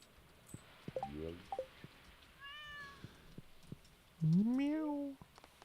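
Game-style cat meows from Stardew Valley, a few short calls early on and a longer rising meow near the end, over faint rain and soft clicks; no talking.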